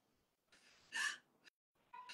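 A person gagging and retching in short bursts: a harsh heave, a brief gasp and another strained retch, close and fairly quiet.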